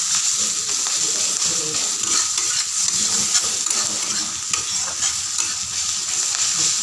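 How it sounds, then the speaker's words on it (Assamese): Onion, ginger-garlic paste and spices frying in a pan with bay leaf, a steady close sizzle with occasional stirring scrapes, continuous with no talk. "এইখিনি ভালকৈ ভাজি লওঁ"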